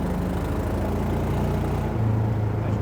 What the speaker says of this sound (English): As you can hear, it's got an interesting exhaust